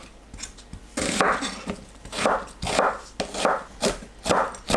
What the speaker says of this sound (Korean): 양파 반개를 썰어주세요.